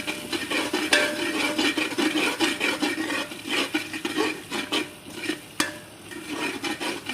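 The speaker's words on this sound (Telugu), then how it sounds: "వేసుకొని ఫ్రై చేసుకోవాలి." A spoon scrapes and stirs through Hyderabadi-style mutton frying with green chilli paste in a pan, with quick clinking strokes over a soft sizzle, close up and without speech.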